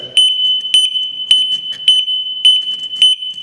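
A Transolve Beep X rocket locator sounds a loud, piercing electronic tone that holds steady throughout, punctuated by sharper chirps roughly every half second, close and alone.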